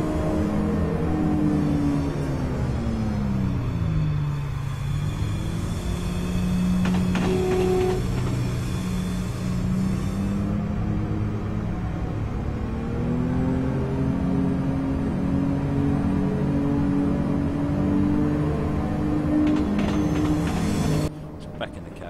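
A Class 170 diesel multiple unit engine in Train Simulator 2015 on the Edinburgh–Glasgow route drones loudly and continuously, its pitch sinking and rising as the revs change, with a brief tonal blip partway through.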